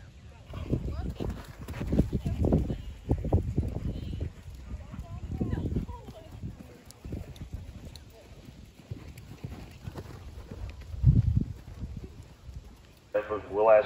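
Horses cantering in a show ring at a pony horse show, hooves thudding in a steady rolling beat at moderate distance, with people talking over them throughout.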